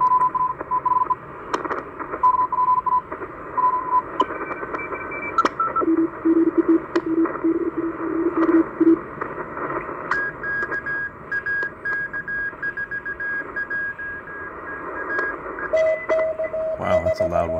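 Shortwave receiver scanning the 7000 to 8000 kHz band outdoors in a park in the morning, with steady static, warbling beeping tones and keyed carrier signals that shift pitch and stop and start, loud and close throughout.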